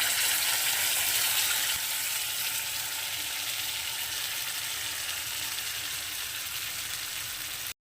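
Peanut paste hits hot oil with onions in a pan, giving a loud, unbroken sizzle that holds steady for several seconds and then cuts off abruptly.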